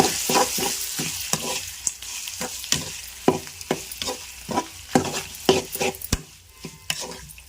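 Ridge gourd and coconut chutney stirred into a sizzling tempering, a spoon scraping the pan in a quick regular rhythm over a constant close frying hiss.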